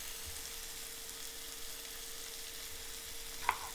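Onions sautéing in a pan give a steady, close sizzle and frying crackle throughout, with one brief sharp tick near the end and no talking.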